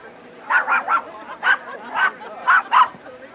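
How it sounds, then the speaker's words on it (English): A dog barks repeatedly at a women's varsity soccer game, about seven short yips and woofs in uneven pairs and clusters, fairly close and clear over faint field ambience. "There's the dog."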